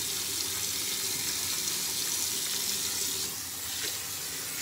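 A tap runs steadily into a sink while the face is washed before a shave, a constant close splashing hiss with slight shifts in the flow and no voices.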